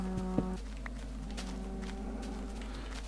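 A cow in Minecraft lets out a single short, loud moo near the start, followed by faint blocky footsteps and a low steady hum, with no talk.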